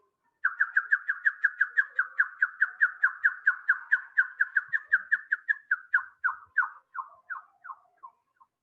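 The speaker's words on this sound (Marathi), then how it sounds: "हा ब्लॅकबर्ड" A male blackbird singing a clear, fairly close run of about two dozen evenly spaced whistled notes, slowing and spreading apart toward the end, with no other sounds.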